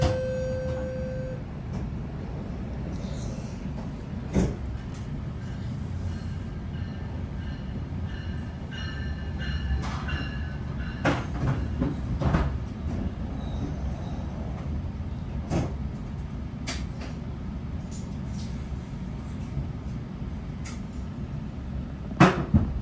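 A commuter train on the Oshawa GO line: its doors close, then the train rumbles away from the station with a steady low rolling drone and scattered clanks and squeaks, with no talking.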